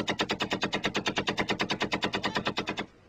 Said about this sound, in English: some of the Federal Army's equipment is distinctly vintage, like these Vickers machine guns introduced into the British Army in 1916